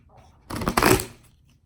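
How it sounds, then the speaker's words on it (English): A single quick burst of tarot cards being shuffled, a papery riffle lasting about half a second, close by. "Okay, we're shuffling again."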